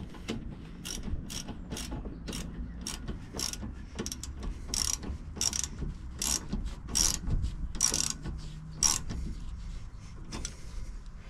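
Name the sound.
ratchet wrench tightening brake caliper bolts on Peugeot 1.6 HDI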